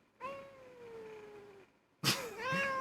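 Two drawn-out meows from a cat in the visual novel Katawa Shoujo, the first long and falling in pitch, then a brief pause and a sharper, louder second meow, heard alone and up close.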